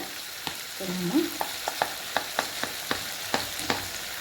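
Tomatoes with ginger garlic paste and curry masala frying in a pan for chicken kulambu, a steady broadband sizzle broken by a regular series of sharp spoon scrapes and knocks as the mixture is stirred, close and fairly loud.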